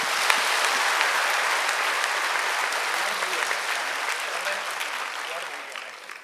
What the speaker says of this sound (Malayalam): ഒരു തീപ്പൊരു കൈയടിയോടെ കർത്താവിന് കൊടുക്കാം.